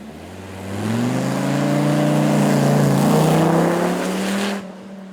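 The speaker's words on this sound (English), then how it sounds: "You can hear just how tall the gearing is in that car, because it's got so much torque coming from that huge engine" A big 8.3-litre V10 supercar drives past at a supercar weekend, its deep engine note swelling as it approaches, holding a steady low drone in tall gearing, then fading away.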